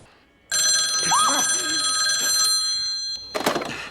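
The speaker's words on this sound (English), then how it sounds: "Before they get a chance to, though, the phone rings." An old-style telephone bell rings continuously for a few seconds, then stops abruptly, followed by a clunk like a handset being lifted.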